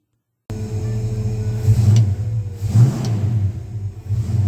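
A 1953 Ford F100 hot rod engine fires up after a silent start and runs with a loud, deep rumble, revving sharply twice before settling back to a steady idle; no voices.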